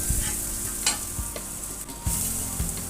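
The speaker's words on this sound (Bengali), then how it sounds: "সামান্য লবণ দিয়ে দিচ্ছি সামান্য হলুদ দিয়ে ভালো করে নেড়ে চেড়ে ভেজে নেব" Greens stir-frying with salt and turmeric in a hot pan, a steady sizzle broken by several sharp scrapes and knocks of a spatula stirring close by, no voices.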